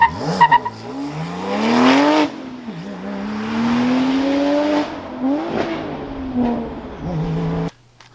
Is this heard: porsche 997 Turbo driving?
yes